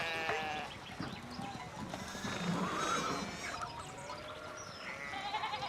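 A horse neighs and whinnies within a layered video game soundscape from Pentiment, its call rising out of ambient background sound with no one talking over it.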